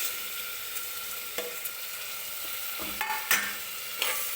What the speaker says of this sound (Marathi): आता मी टोमॅटो टाकून घेणार आहे.